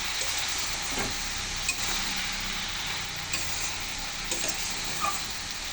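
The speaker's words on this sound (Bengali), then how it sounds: "ভালো করে নেড়ে চেড়ে মিশিয়ে ঢাকা দিয়ে দেবো" Spinach (saag) being stirred in a pan as it cooks, giving a steady sizzling hiss with a few soft scraping stirs scattered through, with no talk.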